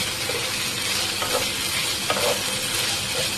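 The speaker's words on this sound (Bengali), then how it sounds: "নেড়ে ছেড়ে একটু ভেজে নেব" Okra stirred and fried in a pan, a steady broadband sizzle with a few soft scraping strokes of the spatula, close and even throughout.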